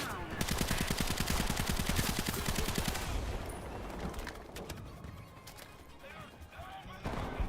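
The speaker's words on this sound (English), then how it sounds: "our guys are shooting each other" Gunfire in the War Thunder video game as soldiers exchange shots inside and around a building: rapid, dense bursts of automatic fire, loud and close, easing into scattered shots and distant crackle.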